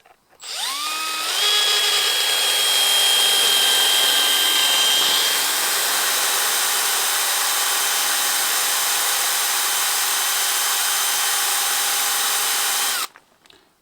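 A shrill electric drill with a diamond bit spins up and grinds steadily through stone at close range for about twelve seconds, its pitch holding even until it stops abruptly.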